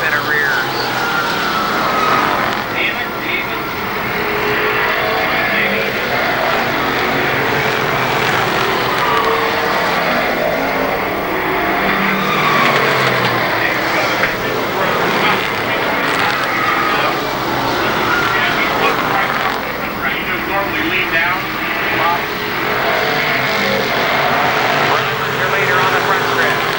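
Legends race cars circle Columbus Motor Speedway in 1996, their engines a continuous loud, buzzing roar from the pack that rises and falls as they pass, under a race commentator's voice.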